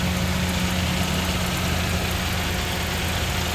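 An engine idles steadily nearby, a constant low rumble with a faint high whine, unchanging throughout.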